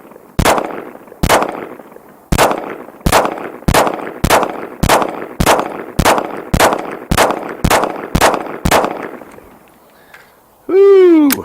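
Fifteen sharp pistol shots from a Bear Creek Arsenal Grizzly BC-102 Glock-clone handgun fired at a cardboard target, evenly spaced and loud, each with a short ringing decay, followed by a brief whooping voice at the end.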